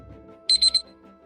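A countdown timer alarm goes off during a classroom activity: three quick, bright electronic beeps in a row, clear and fairly loud over a faint steady background hum, with no talking.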